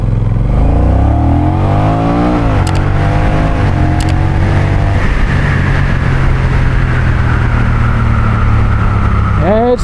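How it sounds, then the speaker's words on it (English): A 2024 Honda Rebel 1100T cruiser motorcycle accelerating hard, loud engine rising in pitch through several gear changes, recorded close with wind rush. "Do a little acceleration test."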